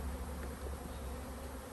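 Honey bees from a hive recently split for swarm management, with nectar coming in, hum in a steady, continuous drone close by, with no voices over it.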